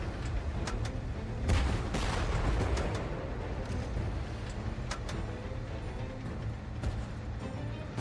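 Gunfire and heavy cannon blasts in a World War tank video game, with dense, loud bursts clustered early and scattered sharp shots continuing over a constant low mechanical rumble.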